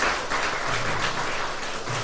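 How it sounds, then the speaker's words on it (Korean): A university chapel audience claps in encouragement for international students, a dense, loud, continuous wash of many hands at close to moderate distance, with no speech over it. "우리 전체 우리 유학생들을 위해서 격려의 박수 하겠습니다."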